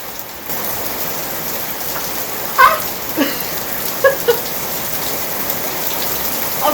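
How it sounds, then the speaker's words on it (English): Heavy rain pours down in a steady, loud hiss, with a few close drops and taps standing out, presumably against Zpacks rain gear. "I know y'all can hear and see that that is a pour down"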